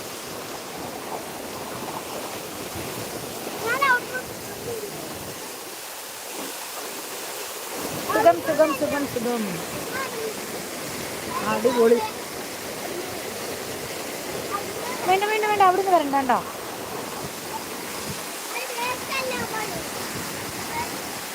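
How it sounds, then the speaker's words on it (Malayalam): Water rushes steadily at Muttam waterfall, a continuous close roar running beneath people chatting and calling out to each other while bathing. "ഇവിടെ മുട്ടം വെള്ളച്ചാട്ടാണ്"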